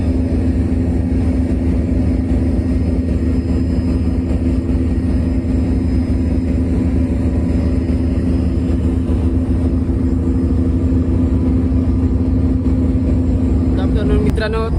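Loud, steady ship engine-room machinery, a deep droning roar with a constant mechanical hum that never lets up, close and enveloping.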